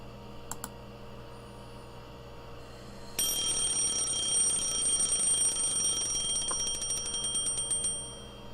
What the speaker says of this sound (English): Shut off my alarm by reflex.